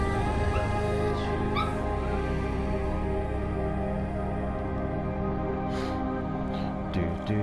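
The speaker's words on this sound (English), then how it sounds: "Even the puppy dogs are going crazy." Dogs in the video game Far Cry 5 whimper and yip in a steady whining chorus over a droning game soundscape, with a few sharp higher yelps toward the end.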